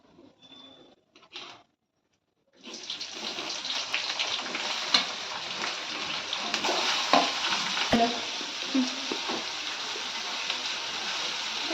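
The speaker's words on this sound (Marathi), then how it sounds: "तेलात चांगला परतवून घ्यायचे कांदा लाल होईपर्यंत परतवून घ्यायचे" Finely chopped onion dropped into hot oil with cumin, a brief quiet pause, then a sudden loud sustained sizzle with scattered spatula scrapes and clicks, close up and without speech.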